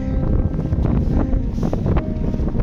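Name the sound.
strong storm wind on Mount Rinjani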